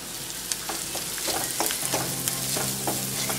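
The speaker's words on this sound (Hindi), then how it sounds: "इसे भी हम एक मिनट के लिए प्याज के साथ भून लेंगे" Red chili, coriander and turmeric powders frying with onions in a pan for turai sabzi, a dense close sizzle with quick repeated spatula scrapes and taps, no voices.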